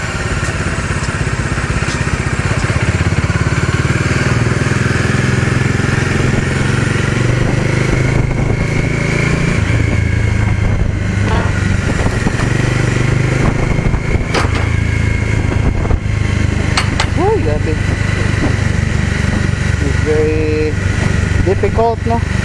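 Kawasaki Bajaj Dominar 400 motorcycle with an aftermarket exhaust runs close by, a loud continuous idle rumble with occasional revs and throttle blips, while someone talks over it at times.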